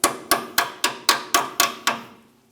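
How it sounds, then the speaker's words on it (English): Small hammer tapping a brake hose retaining clip into place on a 2000-2006 Toyota Tundra front brake line: eight evenly spaced, sharp metallic taps, close and loud, each ringing briefly. "grab a little hammer or something and you can tap it into place"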